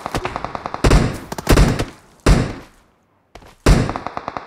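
Automatic gunfire from the battle royale game PUBG comes in loud rapid bursts separated by short gaps, each burst a tight string of sharp shots.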